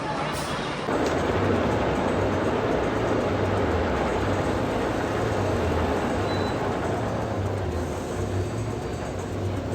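A roller coaster train arriving at the station rumbles steadily with a rhythmic low thumping of wheels over track, a brief hiss near the start, loud and close throughout.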